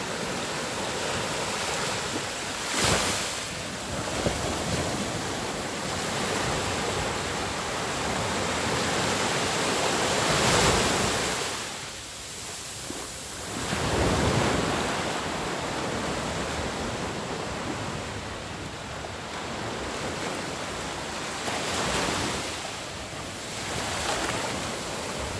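Steady wash of water slapping and lapping against a fishing town harbor, rising and falling in gentle surges, close by, with no voices.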